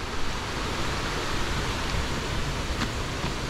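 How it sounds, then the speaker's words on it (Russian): A jungle waterfall gushes in a steady, dense wash of rushing water that stays constant throughout, with no voices. "Вон там вода бьет"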